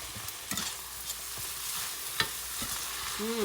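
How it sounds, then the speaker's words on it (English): Tomatoes are stirred into a frying pan with mushrooms for a spicy salmon salsa: a few soft scrapes and clicks of the spoon over a faint, steady sizzle, close by, with no voices. "Give it a good mix."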